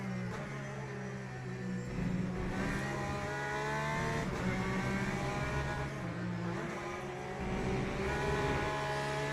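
A Porsche GT3 race car's engine snarls in Le Mans Ultimate, a loud close-up whine climbing through the gears with several upshifts and dips, steady and without voices.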